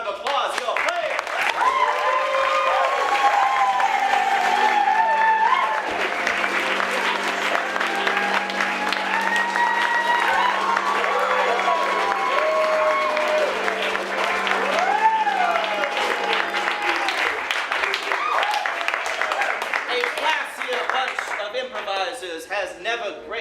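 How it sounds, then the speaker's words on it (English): An audience at a Havana stage show applauds players brought on stage, a sustained wash of clapping and cheering heard under a loud, continuous voice speaking or singing throughout. "please give them a thunderous round of applause, your players!"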